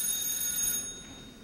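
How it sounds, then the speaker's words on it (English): A telephone rings with a bright electronic trill, loud and close, running briefly before cutting off, over a low room hum with no talk. "answer the phone, would you?"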